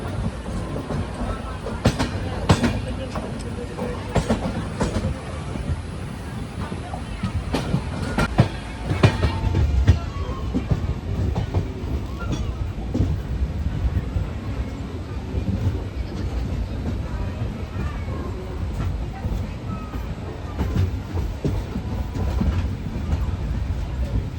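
The Janshatabdi Express rolling into Manmad junction, with steady rumbling wheels, clickety-clack rail joints and a few sharp clanks over about twenty-four seconds, heard from on board.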